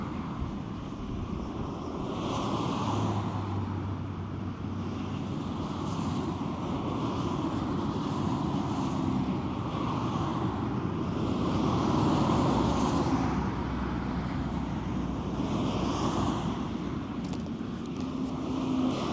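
Wind blowing outdoors by a roadside while hitchhiking in Norway, a steady broadband rush with slow gusty swells and microphone buffeting, continuous throughout with no talk.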